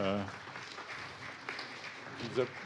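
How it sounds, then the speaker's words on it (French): Applause from a lecture audience at the Collège de France, a soft, continuous wash of clapping with a voice briefly audible at the start and near the end. "applaudissons Bruno et François en même temps"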